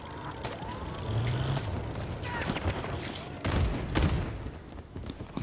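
Gunfire in the Call of Duty MW3 Ground War video game, scattered sharp shots and bursts over a steady rumble of vehicles and battle noise, with a voice talking over it.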